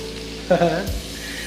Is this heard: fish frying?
yes